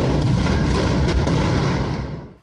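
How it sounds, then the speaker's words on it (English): A gas explosion at night erupts as a loud, continuous roaring blast, with dense broadband rumble and crackle sustained for about two seconds before cutting off abruptly. "In the dead of the night, an explosion lights up the sky."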